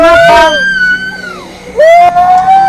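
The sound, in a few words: possessed woman screaming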